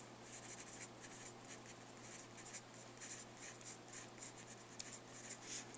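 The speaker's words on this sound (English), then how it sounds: "I'm going to write supplies office." A pen writing in a journal: faint, close scratching strokes come in short repeated bursts over a quiet low room hum, with no talk.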